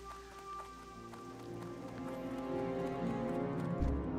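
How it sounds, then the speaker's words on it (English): Steady rain falls in the World of Warcraft town of Southshore, a soft continuous patter that grows slightly louder over time, with faint tonal game sounds in the background. "Guys, it's raining."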